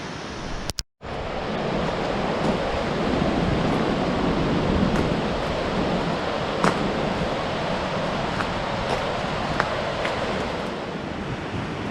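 A river swollen after heavy rain rushes by below a lookout near an old Roman bridge on a mountain trail, a loud, steady roar with a brief dropout near the start.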